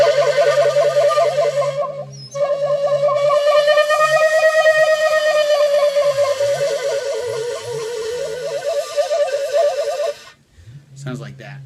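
Shakuhachi playing the koro koro technique, a sustained breathy flute tone with a rapid fluttering warble, held for about ten seconds with a brief break near the start.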